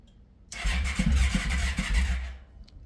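A Yamaha Royal Star motorcycle that has sat unused for two years cranks over on its starter, a loud close churning with a rhythmic pulsing labor for about two seconds before cutting off.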